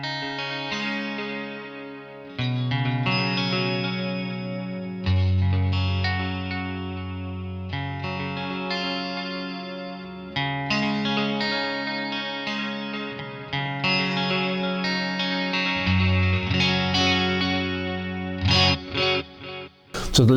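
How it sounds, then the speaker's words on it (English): An electric guitar tuned to drop D plays chords and notes through a Pigtronix Echolution 3 pedal set to a pronounced modulated quarter-note delay at a high level. The repeats smear and shimmer under the sustained playing, loud and close, with no talking. "very pronounced modulated delay."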